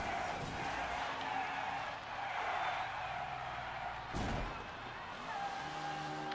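A car spinning out in the NASCAR 21: Ignition racing game, with a loud engine drone and tire skid across the stretch and a sharp burst of noise midway.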